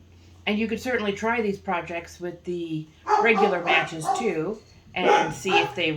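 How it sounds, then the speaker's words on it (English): Several dogs barking inside a house, short yaps and woofs mixed under a man's steady, close talking. "Sorry about the dogs. We have a lot of dogs in my house."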